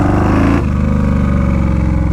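Yamaha Warrior 1700 motorcycle engine running while riding, a loud, steady low rumble that drops slightly in pitch after a brief higher rev at the start, continuous and close with no talking.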